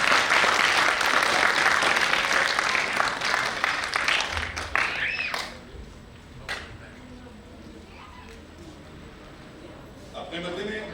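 Audience applause at a Hindi stage show, loud sustained clapping from a large crowd that fades after about five seconds, with a brief later burst.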